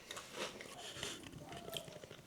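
Close, faint crunching and chewing of homemade chocolate Rice Krispies candy, chilled in a freezer, with repeated bites and mouth noises over a couple of seconds.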